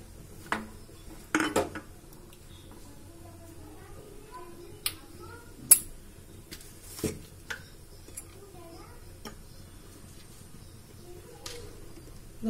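Chunks of tapioca (kappa) tipped into a pot of half-cooked pumpkin curry with crushed coconut, giving scattered clinks and knocks of utensil on metal pot, fairly close and moderate, spread over quiet background.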